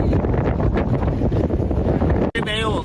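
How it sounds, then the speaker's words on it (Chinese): Strong gusty wind of force nine to ten roars around a plastic-covered greenhouse, buffeting the microphone in a loud continuous rush. It drops out briefly near the end, when a short voice is heard. "这里现在风力可以达到阵风九到十级，今天是扣棚以来遇到最大的一场风。"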